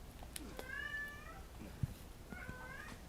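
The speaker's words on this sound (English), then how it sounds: "She'll just sometimes just start meowing a lot out of nowhere." A domestic cat meows twice, fairly close, with a drawn-out call near the start and another about two seconds later, over a quiet room with a faint knock between them.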